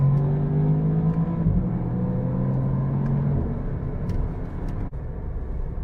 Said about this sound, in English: And it does rev match.